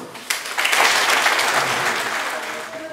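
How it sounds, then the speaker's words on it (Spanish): An audience at a registration event for older adults applauds the president, a crowd's clapping that rises sharply, holds strong, then tapers slightly, with some voices underneath. "yo sí les voy a pedir un aplauso para nuestro presidente."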